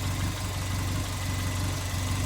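A Suzuki Jimny fitted with a lift kit idles with a steady, even low rumble and a continuous hum, close by with no talking.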